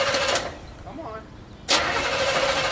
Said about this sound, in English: This is why Pouv's starter won't work in the Derby